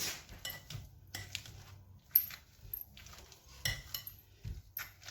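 Potatoes with garlic and salt are mashed in a pot, giving irregular scraping and clinking knocks of a utensil against the pot, fairly quiet and close, with pauses between strokes.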